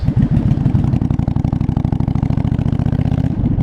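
A 1982 Yamaha Virago 920cc motorcycle engine with Hitachi carburetors, running slightly lean, gives a loud close, steady pulsing throb with a rhythmic lumpy beat throughout.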